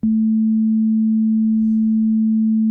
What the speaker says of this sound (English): now what we're going to get is a sine wave at 220 Hertz